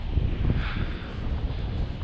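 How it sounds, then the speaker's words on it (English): Steady low rumble of wind buffeting a GoPro microphone on a hike in a New Zealand valley, constant throughout with gusty fluctuations and no clear voices. "It's pretty windy, but it's not as bad as it probably sounds worse on the GoPro than it is."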